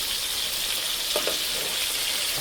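Catfish pieces sizzling in hot oil for a catfish calabash curry, a soft, even frying hiss throughout with a couple of faint clinks near the middle.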